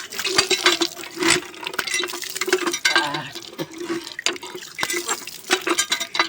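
Running tap water splashes and gushes continuously up close as someone washes their face at a sink, with uneven splashing bursts throughout and no talking.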